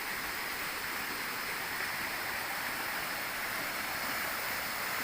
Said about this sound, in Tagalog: Lakas ng tubig sa ilog dahil nga po baha ngayon.